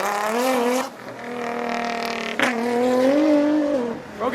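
A car at a rainy car meet spins its tires with no traction, giving a loud, close engine roar that climbs and falls in pitch with brief bursts of tire noise, no talk over it.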